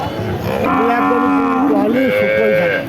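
A crossbred dairy cow moos loudly and close by at a Bangladeshi cattle market, two long drawn-out calls running almost back to back with market noise faintly underneath.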